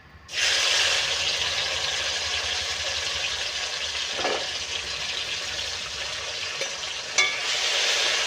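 Panch phoron spices sizzle in hot oil, a dense continuous crackling hiss that starts abruptly and runs on steadily, with a couple of faint knocks partway through; no voices.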